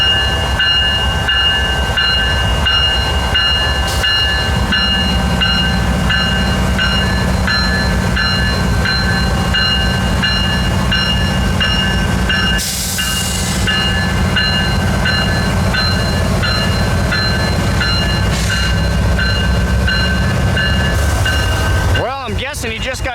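A CN L570 freight train rolls slowly into Ackley, Iowa, with a loud continuous rumble, steady mechanical hum and squealing tones close by, and a brief burst of noise near the end.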